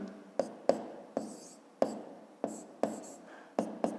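Pen strokes writing math by hand for a fifth-grade geometry exercise: a series of short, crisp taps and scratches spaced irregularly, close and fairly quiet, with no talking.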